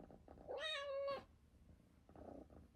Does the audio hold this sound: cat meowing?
yes